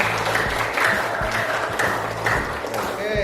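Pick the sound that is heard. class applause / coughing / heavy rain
class applause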